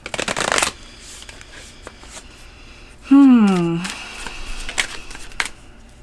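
A deck of oracle cards is shuffled close up with a dense riffling burst, then softer card handling continues while a person speaks over it.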